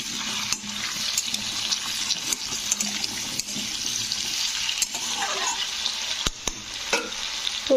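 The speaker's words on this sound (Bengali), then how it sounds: "তো আলুগুলো দিয়ে একটু নাড়তে হবে আলুগুলোকে।" Potatoes stir-frying in a pan while cooking a ridge gourd and potato poppy-seed dish, a steady broadband sizzle with scraping stir strokes throughout, close and fairly loud, no voices.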